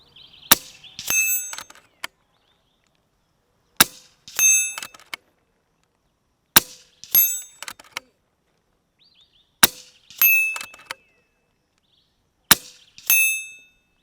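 FX DRS Tactical air rifle firing hybrid pellets at targets: five rapid groups of sharp shots with pellet impacts and ringing metallic clangs, each burst separated by a pause of about two seconds, loud and close with no talking.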